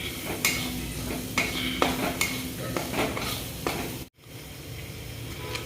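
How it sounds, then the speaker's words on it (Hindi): Maggi masala lightly frying in a pan: a soft sizzle under repeated clinking, scraping stirs of a spoon against the pan, close up, with a brief dropout near the end. "थोड़ा सा हल्का से भून रहा हूँ।"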